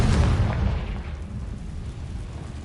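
Confringo blasting spell from the video game Hogwarts Legacy erupts in a loud, booming explosion with a heavy low rumble that hits at once and slowly fades over a few seconds, with no talking.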